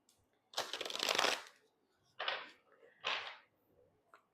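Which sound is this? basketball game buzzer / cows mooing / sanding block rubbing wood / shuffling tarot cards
shuffling tarot cards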